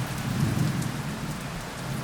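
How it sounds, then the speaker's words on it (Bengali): Sudden evening rain pours down in a steady hiss, with a low rumble of thunder rolling underneath early on and no voices. "হঠাৎ করে বৃষ্টি নেমেছে"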